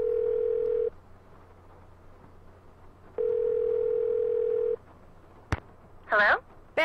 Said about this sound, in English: Oh, let's call Bess.